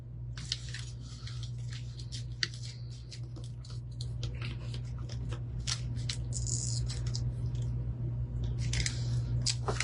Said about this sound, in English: Let's see if this one's going to be as easy to peel off as that barn was.